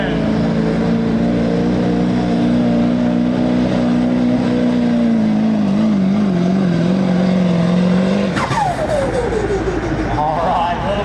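A 2004 GMC pickup with the LB7 Duramax diesel engine roars loudly under a steady pull at a truck pull, its pitch wavering before a sharp burst and falling rev, with crowd noise around.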